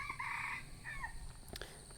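Wild jungle fowl in Thai countryside crow in a loud, close call that stretches over the first half-second, followed by a shorter second crow and faint clucking against outdoor background noise.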